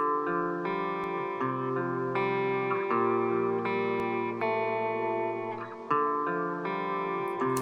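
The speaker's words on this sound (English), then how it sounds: "So I guess the first guitar is going to sound like this." Electric guitar playing sustained chords with a polished tone shaped by EQ and multiband compression and a wash of reverb, changing chords every second or so, no voices.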